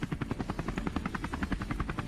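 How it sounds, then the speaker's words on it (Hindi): Helicopter in the Scarfall 2.0 battle royale game on the Mumbai map, a loud, steady rotor chop beating in a fast, even rhythm over an engine drone, heard close up with no talk over it. "तो हम लोग ये वाला हेलीकॉप्टर ले लेते हैं।"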